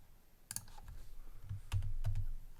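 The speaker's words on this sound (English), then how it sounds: "I'm gonna type the same word." Keystrokes tapped out on a computer keyboard while typing a single word, a quick cluster of close, crisp clicks with a few short pauses between them, no voices.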